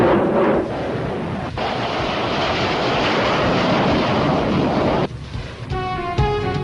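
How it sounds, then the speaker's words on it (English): Pakistan Air Force F-7 fighter jet roaring past in a rocket attack during an armament exercise, a loud sustained broadband rush and whoosh lasting several seconds before cutting off abruptly, with a brief tonal whine at the end. "Finally, the F-7 aircraft is going for a rocket attack."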